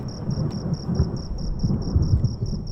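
Storm sound effect for a Bangla horror cartoon, with steady rain and low thunder rumbles swelling throughout, plus a faint high insect-like tone above.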